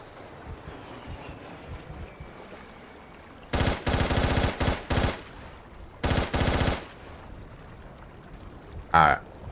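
Gunfire from SOCOM U.S. Navy SEALs 3 on PlayStation 2, several loud automatic bursts in close succession, then a brief sharp report near the end, over faint game background sound.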